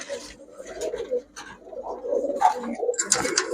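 Pakistani Chuithal pigeons coo in soft, throaty bursts, several calls overlapping close by, with brief rustles and a faint chirp between them.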